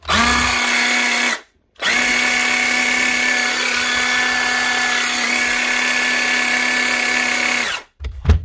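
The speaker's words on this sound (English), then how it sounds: "One Dewalt DCS 331 18-volt cordless jigsaw with the older brushed motor" A Dewalt DCS 331 18-volt cordless jigsaw with an older brushed motor, freshly stripped, cleaned and re-greased, runs with a steady loud whine, cutting out briefly near the start and stopping at the end.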